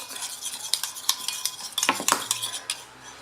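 A spoon scrapes and clinks against a container while stirring a mixture of dish soap, paint and a little water, with irregular close taps and swishes and no voices.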